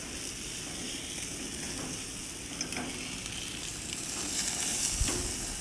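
Chicken sizzles steadily on a hot grill, a constant close frying hiss with occasional faint pops and crackles, no talking.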